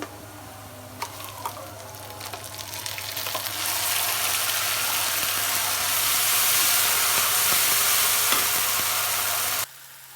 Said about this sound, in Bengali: পেঁয়াজগুলো আমার লাল লাল করে ভাজা হয়ে গেছে